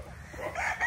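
Chickens of game-fowl bloodlines, with a rooster's crow rising near the end of a brief, busy outdoor moment amid low background noise.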